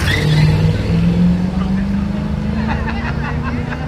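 A 1972 Corvette pulls away at a hill climb event, its engine note rising steadily over a loud crowd and an announcer talking throughout.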